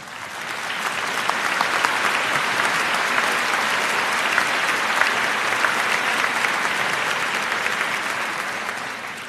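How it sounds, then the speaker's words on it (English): Steady applause from a large audience at a high school commencement, a dense wash of clapping that holds at an even level from start to finish. "Elaine, please join me in honoring her with a round of applause"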